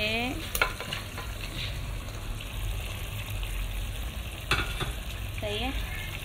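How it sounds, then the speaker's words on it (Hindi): Eggplant and potatoes frying in an Indian baingan aloo dish, with a steady sizzle in the pan and a few scraping stirs of a spoon cutting through the oil. "आलू हमारे हो गए हैं तो फिर हम इसमें बैंगन ऐड कर रहे हैं।"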